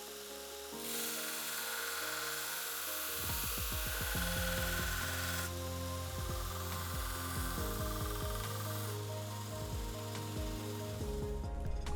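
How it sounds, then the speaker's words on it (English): A belt grinder grinds aluminum bronze knife blades, a close, steady abrasive whir with a rough rasping edge that rises as metal is pressed on and holds through repeated passes, with no voices. "I have virtually zero experience grinding knives on a belt grinder"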